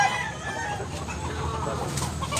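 Gamecock rooster of Tiger Hatch Hini bloodline clucking at a Cebu cockfighting setting, faint and brief calls buried in a dense, noisy crowd-like background hum with scattered rustles.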